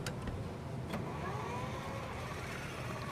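A truck engine in the video game Snowrunner, modded for a realistic slow start, cranks and catches, a few brief clicks followed by a rising mechanical whine and steady low rumble, fairly quiet.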